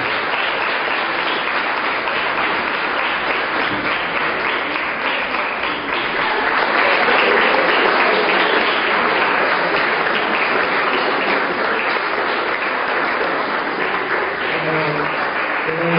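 Loud, sustained applause from students filling a university auditorium, a dense continuous roar of clapping that holds steady for the whole stretch with faint voices mixed in.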